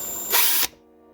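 Power drill whirring in one short burst while drilling under the interior of an Acura TL, spinning up abruptly and cutting off cleanly, loud and close with no talk.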